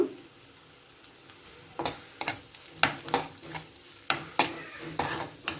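Egg scramble cooking in a frying pan, stirred with a spoon that clicks and scrapes against the metal in repeated sharp strokes over a low sizzle.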